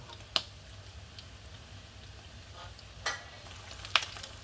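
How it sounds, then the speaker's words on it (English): Corned beef balls frying in a pan of oil, a soft steady sizzle low in level, broken by a few sharp clicks and taps near and quiet. "Don't put too many in the pan because once the oil starts to bubble"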